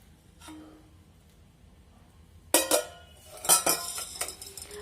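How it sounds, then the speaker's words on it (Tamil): Moringa leaf tea being strained after boiling: metal pot and utensil clinks and clatters in two bursts, fairly close, with a light pouring wash between them, after a quiet start. "நல்லா வடிச்சுக்கலாம்."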